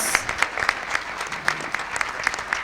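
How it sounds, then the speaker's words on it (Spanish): An audience at a natural cosmetics symposium in Argentina breaks into brisk applause, with a fairly close crowd clapping in sharp, distinct claps that stay steady from start to finish. "Así le damos un fuerte aplauso"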